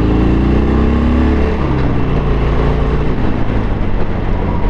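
A Harley-Davidson 72 with a V-twin engine pulls away under steady throttle while merging, its loud, rough exhaust rumble rising in pitch and then holding a sustained drone, close to the rider with wind noise and no talking.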